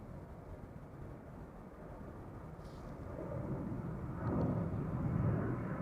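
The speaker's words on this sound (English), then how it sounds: "we have to make do with the airplanes now taking off from center for a moment" Airliner taking off at Amsterdam Schiphol Airport, a distant jet rumble that swells steadily and grows louder toward the end, with no voices.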